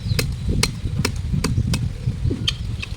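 A blunt knife chops fish into pieces on a board in sharp, irregular whacks, about eight blows spaced under a second apart, close and distinct over a low background.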